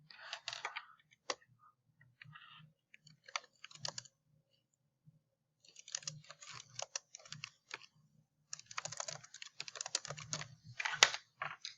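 Bursts of typing on a computer keyboard, with rapid clustered key clicks in several runs separated by pauses, close and fairly loud, with no voices.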